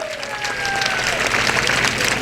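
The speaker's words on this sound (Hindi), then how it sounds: "आप तालियां बजा सकते हैं स्वागत में।" An audience claps in welcome at an outdoor political gathering in Etah, steady applause filling the whole stretch with crowd noise, while a faint tone or whistle drifts over it early on.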